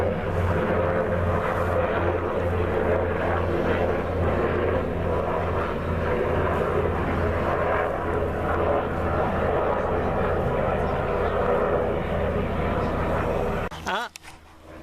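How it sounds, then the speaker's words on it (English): Helicopters fly overhead at a family fun day in Cornwall, a steady loud engine and rotor roar that stays constant before cutting off near the end, with a voice talking under it. "Helicopters going above us now."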